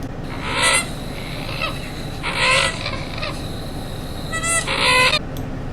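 American coots calling in a freshwater wetland, several short honking bursts in clusters over a constant background hiss, fairly close with no voices.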